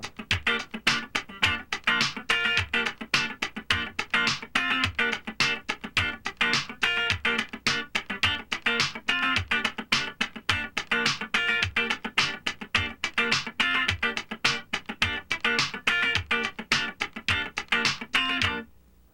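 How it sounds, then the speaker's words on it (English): Up-tempo funk rhythm guitar, muted strings scratched in a tight, fast, even pattern that runs without a break, loud and close. "just scratch the guitar all the way through"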